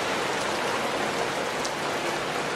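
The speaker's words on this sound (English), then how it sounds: "Rain." Steady, even rain falls outdoors, a dense continuous hiss with no gaps and no voices across the whole stretch.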